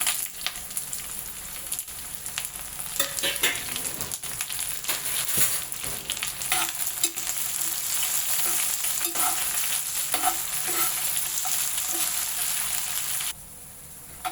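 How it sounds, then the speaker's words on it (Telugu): Dried red chillies and coriander seeds fry in hot oil, a bright crackling sizzle with scattered pops and stirring scrapes that builds slightly and holds steady before cutting down near the end. "ఇప్పుడు ఎండుమిరపకాయలు ధనియాలు కలిపి ఫ్రై చేసుకుందాం."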